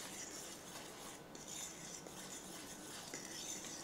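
Dry gluten-free dumpling dough ingredients, tapioca starch, salt and baking powder, being stirred together in a bowl, giving a steady soft scraping with faint utensil clinks against the dish throughout.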